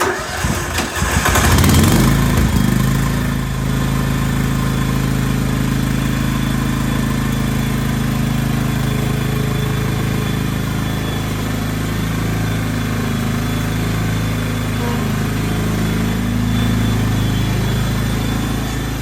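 A John Deere LX 266 lawn tractor engine cranks, catches after a choke start and settles into a loud, steady idle that runs close by without stopping, with no talk over it.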